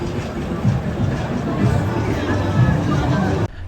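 Crowded metro station after a football match at the Amiri Cup Final at Khalifa Stadium, with a dense, loud hubbub of crowd voices over the low rumble and rattle of a metro train, steady throughout before cutting off near the end.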